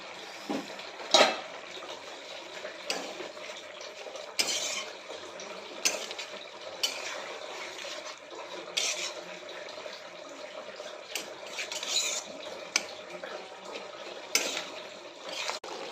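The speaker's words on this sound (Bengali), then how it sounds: "উচ্ছে পাতাটা দিয়ে বেশি সেদ্ধ করব না, জাস্ট একটু নাড়িয়ে চাড়িয়ে নামিয়ে দেবো" A pan of catla fish curry with tender bitter gourd leaves is stirred quietly, with intermittent clinks and scrapes of a utensil against the metal pan over a low background hiss.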